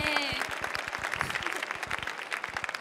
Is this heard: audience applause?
yes